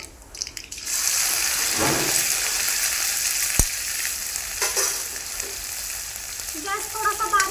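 Crushed garlic sizzles steadily in a hot kadai for a green moong curry, a loud continuous fry with a brief clink partway through, and no talking.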